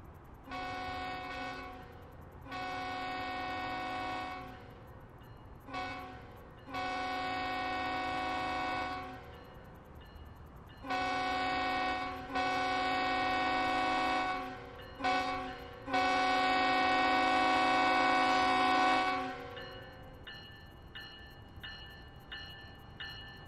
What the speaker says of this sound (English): we will see the CPKC auto rack train out of Hyndman, Pennsylvania, going eastbound